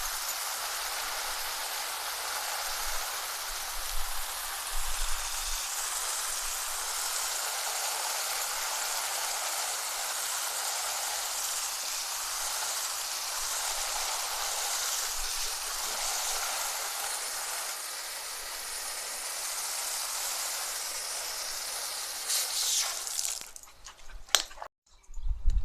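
Water sprays steadily for over twenty seconds, rinsing a scrubbed, degreased part before Cerakote coating, a continuous broadband hiss that ends in a few clattering knocks.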